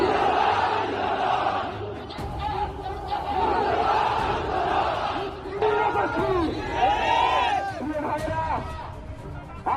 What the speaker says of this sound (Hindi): शरीफ उस्मान हादी की अंतिम यात्रा में उमड़ी भीड़।